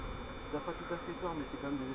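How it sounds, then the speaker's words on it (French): Honeybees pour out of a hive in a massive exit at an apiary in Le Perreux-sur-Marne, making a faint, dense buzzing hum with fluctuating swarm drone throughout. "c'est une sortie massive d'abeilles"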